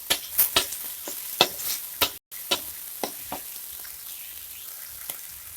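Chicken thigh bone pieces sizzle in hot oil in a pan while being stirred for bihun goreng, with a steady frying hiss broken by scraping stir clicks and brief pauses.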